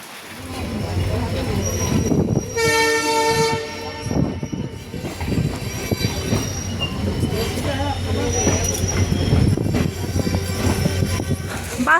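A train arriving at Lower Haflong railway station: a loud horn blast with a sustained rumble of wagons, and wheels squealing as it rolls in close by.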